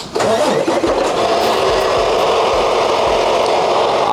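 A Freightliner truck engine cranks and catches, then settles into a loud, steady diesel idle close by, with no talk over it.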